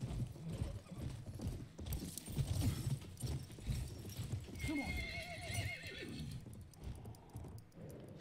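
Rhythmic hoofbeats of a galloping horse in a video game clatter close by, with a sharp neigh partway through, followed by a mechanical whir.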